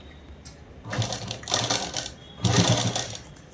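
A sewing machine stitches shirt fabric in loud, rapid mechanical bursts, three runs of whirring stitching separated by short pauses, close and clear with no talking.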